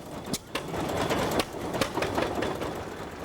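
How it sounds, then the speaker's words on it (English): Antique flywheel engines chug and knock in a steady mechanical rhythm, with sharp periodic clacks over a dense running rumble, close by and without speech. "They're called flywheel engines, the name coming from the heavy flywheels that make them run."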